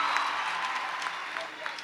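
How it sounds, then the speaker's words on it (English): Steady applause from an audience at a youth conference couples session, a dense, even patter of many hands lasting about two seconds. "Tete Mnyaradz is clapping her hands"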